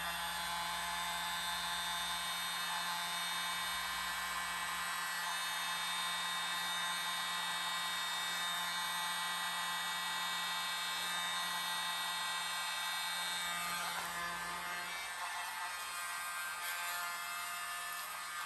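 A very small electric blower runs continuously on a big Dutch pour of paint, a steady high-pitched whine with a constant hum holding nearly level throughout.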